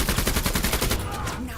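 Rapid automatic gunfire from a vehicle-mounted gun in a bug-fighting video game, a dense, loud, steady rattle of shots that thins out near the end, with faint voices mixed in.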